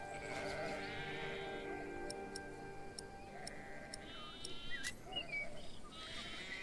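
A sheep bleats in the video game Pillars of the Earth, a wavering cry held for a few seconds over a quiet background, with sharp ticking clicks spaced evenly through it.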